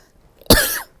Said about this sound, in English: And a cough.